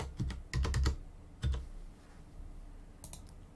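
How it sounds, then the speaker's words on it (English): Typing on a computer keyboard: short bursts of close, crisp key clicks, a quick cluster, a single louder tap, then a brief final flurry after a pause. "So I'll just type that in."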